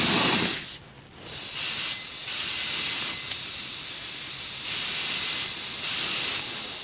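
Loud, close hiss of air escaping from a trailer tire valve during a pressure check, coming in several sustained bursts separated by brief breaks.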